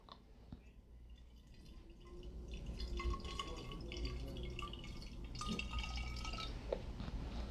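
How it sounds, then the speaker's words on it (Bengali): Rubbing alcohol pours into a bottle already holding aloe vera gel for homemade hand sanitizer, a faint, steady trickling and dripping of liquid close by against a quiet indoor background, building slightly in level toward the end. "এখন আমি অ্যালকোহল রাব দিচ্ছি এর ডাবল, দ্বিগুণ।"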